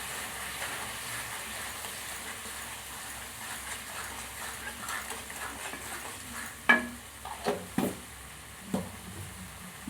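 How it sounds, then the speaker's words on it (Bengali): Ground turmeric and spice paste fry in a pan with a steady low sizzle, then several sharp scraping clatters of a spatula stirring near the end, with no talking. "ভালো করে মশলাটা দিয়ে আমি কষিয়ে নেব।"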